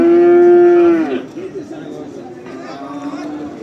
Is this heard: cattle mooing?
yes